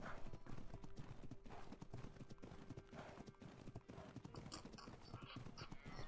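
Horse hooves clip-clop at a steady walking rhythm in the survival game ARK, close and fairly loud, over a busy background of game ambience and music.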